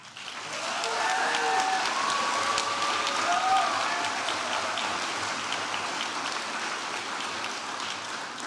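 Audience at a 2023 midyear graduation ceremony applauds the graduating class, a broad, steady rush of many hands clapping that swells after the first second and holds, with faint voices mixed in.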